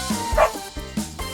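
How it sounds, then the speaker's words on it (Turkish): A dog barks in a children's animal sounds game, with two or three short, close woofs and yips in quick succession and no talking. "Bu bir köpek."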